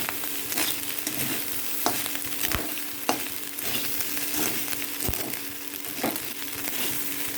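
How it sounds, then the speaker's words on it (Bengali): Rice frying in a pan with roasted spices on a vegetarian day, a steady sizzle with occasional sharp scrapes and stirring knocks, close and continuous, no talking. "এরকম ভাত ভাজা খুব ভালো লাগে।"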